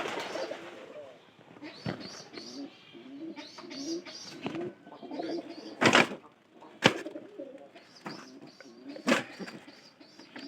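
Pigeons coo repeatedly at close range, low throaty calls recurring throughout, with a few sharp knocks and rustles in between.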